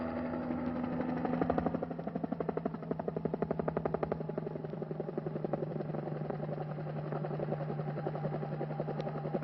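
A helicopter flies over the Bizerte airstrip, its rotor beating in a steady, fast, even chop with a constant engine drone underneath, close and continuous throughout.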